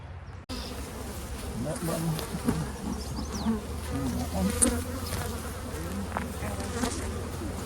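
Honey bees buzz around open beehives during a hands-on beekeeping class, a steady close hum of many insects with individual bees droning past, no speech.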